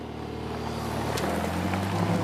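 A Ferrari F8 Spider on the road, its engine a steady low hum with wind rush that swells into a stronger, rising note toward the end.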